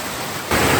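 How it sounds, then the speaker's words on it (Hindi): A waterfall flows beside a small roadside tea stop on a road trip to Skardu, Pakistan, a loud, steady rushing wash of water that swells abruptly louder partway through. "बड़ा ही खूबसूरत किस्म का झरना बह रहा है यहाँ से।"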